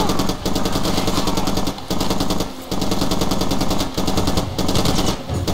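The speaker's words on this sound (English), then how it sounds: "You're going with the fucking PKM" A PKM machine gun rattles in Far Cry 2, loud sustained automatic bursts fired close, each lasting over a second with short gaps between, a dense mechanical chatter throughout.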